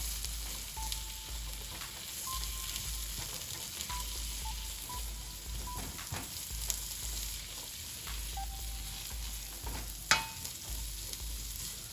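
Shrimp sauté in a hot pan as part of a lobster and shrimp quesadilla, giving a steady, close sizzle and frying crackle throughout, with occasional faint clinks and one sharp utensil tap near the end.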